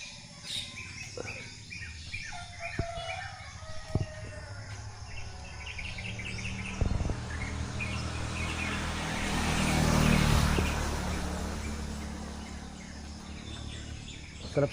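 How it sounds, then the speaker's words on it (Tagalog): Birds sing and chirp outdoors around a resort, with insects buzzing steadily beneath, calls scattered over a moderate background wash that swells briefly midway. "Sarap sa tinga yung mga tunog ng ibon, no?"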